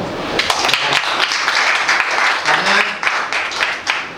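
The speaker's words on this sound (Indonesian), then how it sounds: "Tepuk tangan dong." Crowd applause with dense clapping that carries on steadily at a 3x3 basketball tournament press conference, with a voice talking over it near the end.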